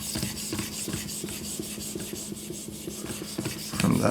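Knife edge refined on an Edge Pro Apex sharpening kit, a close, steady rasping stroke repeated in an even rhythm, loud and continuous with no voices.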